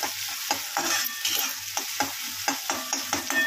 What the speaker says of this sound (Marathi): आता 2 मिनिटं ह्याला आपण असंच फ्राय होऊ देऊया। कांदा टमाटर बघा किती छान मस्त फ्राय झाले।